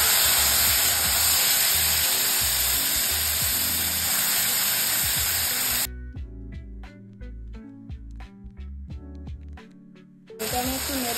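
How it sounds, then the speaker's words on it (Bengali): Nigella seeds hiss and crackle as they hit hot oil for a Bengali potato and pointed gourd curry, a steady loud sizzle that drops away midway, then returns. "একটু কালো জিরা ফোড়ন দিয়ে দিচ্ছি।"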